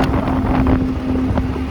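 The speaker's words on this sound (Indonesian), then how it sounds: "yang menemani perjalanan cuma sorot lampu motor dan suara mesin" A TVS Callisto 125 scooter rides along a dark road at night, its engine giving a steady droning hum under heavy wind rush across the microphone.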